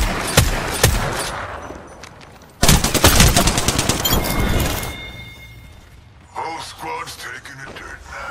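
Gunfire in the Apex Legends video game: sharp single shots early, then a loud rapid burst of automatic fire, a quieter lull, and more shots near the end, with game voice lines talking over parts of it.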